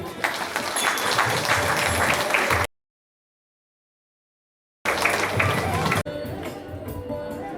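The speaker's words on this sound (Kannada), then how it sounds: "ಅವರಿಗೆ ಒಂದು ಚಪ್ಪಾಳೆ ತಟ್ಟಿ" Audience applause at a Krishna costume contest for children, a dense, loud burst of crowd clapping that cuts out to silence for about two seconds, then returns briefly before settling into a softer crowd murmur.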